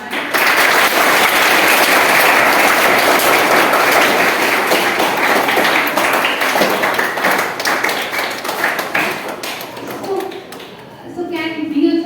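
A roomful of school students claps together in a loud, dense burst of applause that fades over several seconds, with children's voices chattering underneath and rising as the clapping dies.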